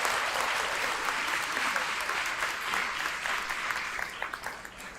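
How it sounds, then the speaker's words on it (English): Sustained audience applause fills a book awards ceremony, a dense steady clatter of many hands clapping at close range that continues evenly throughout, thinning slightly toward the end. "So let's also give them a round of applause."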